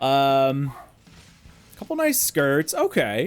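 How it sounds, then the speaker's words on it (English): A pet dog barks in short sharp yips beneath and between a man's nearby speech, with a few barks audible during pauses in the talk. "Sorry about my dog, by the way."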